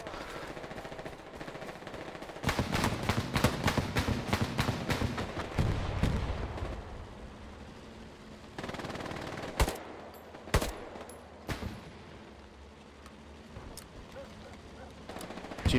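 Machine gun fire rattles in the World War II shooter Hell Let Loose, a dense burst of rapid shots followed by scattered single cracks and distant gunfire, with players talking now and then.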